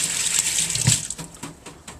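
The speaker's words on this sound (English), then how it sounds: "wash my hands real quick" Hands are washed under a running kitchen tap, with steady splashing water close by and the flow shifting as the hands move through the stream.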